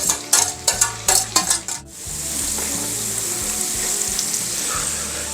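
Onions added to a hot pan already holding chicken for a traditional Gilan-style chicken dish, a few sharp clatters and stirs at first, then a steady loud sizzle and frying hiss that continues alone.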